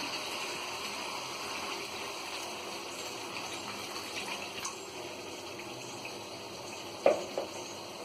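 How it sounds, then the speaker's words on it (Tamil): Water poured into chicken cooking in a pot for biryani, a continuous gushing pour over faint sizzling, with a brief clink near the end. "இதில் கொஞ்சம் தண்ணி சேர்த்து வேக வச்சிடலாம்."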